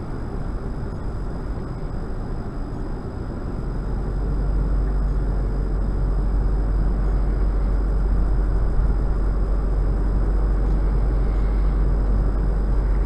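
Steady low road rumble and muffled hum inside the cabin of a 2021 Isuzu D-Max ute on the move, a constant quiet drone growing slightly fuller after a few seconds, with no talking.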